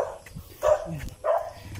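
A dog chases a runner on a rural road, barking in short bursts, two or three sharp yaps at moderate distance, with some low outdoor rumble between them.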